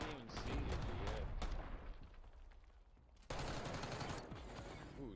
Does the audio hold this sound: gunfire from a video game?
yes